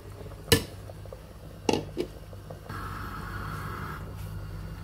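A couple of sharp metallic clinks of a utensil against a pot, followed by a soft scraping stir of frozen taro root over a low steady hum.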